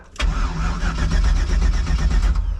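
A drag-racing race car engine fires up with a sudden loud catch, then settles into a close, heavy, throbbing idle with a steady pulsing rhythm and no voices.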